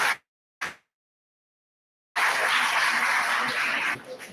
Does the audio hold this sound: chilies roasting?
no